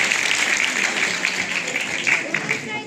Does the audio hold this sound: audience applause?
yes